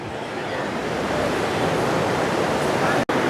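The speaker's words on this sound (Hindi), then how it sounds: "ये देखो कितनी प्यारी नदी, साफ और सुंदर" Clear river in Dharchula, Uttarakhand, rushing as a steady, dense, close-up wash of flowing water that holds constant throughout, with a brief dropout near the end.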